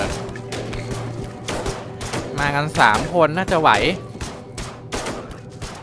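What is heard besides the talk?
soldiers' gunfire in a video game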